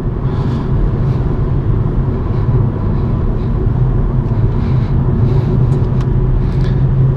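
A BMW M135i drives in fourth gear on a winding road in Northern Scotland, its engine a steady, loud onboard drone with road rumble throughout and no distinct revs.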